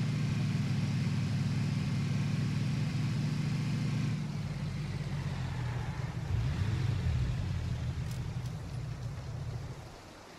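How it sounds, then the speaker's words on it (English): A vehicle engine drones in PUBG as the player drives, a loud, steady low hum that holds, shifts pitch partway through as the vehicle slows, then fades at the end, with no talk. "if someone's hiding out here, they'll have that advantage hearing me come up with the vehicle"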